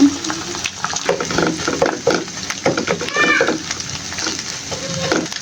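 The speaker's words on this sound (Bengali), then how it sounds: "ডিমটা দিয়ে ভালোভাবে নাড়াচাড়া করে ভেঙে একটু ভাজা ভাজা করে নেব" Egg being stirred and broken up in a pan while it fries, with repeated close scraping strokes over a low sizzle and a short squeaky tone midway.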